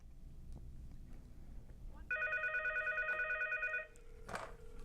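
An ESI 45 SIP business desk phone rings with an incoming call, a single electronic warbling burst of about two seconds standing out over a quiet room.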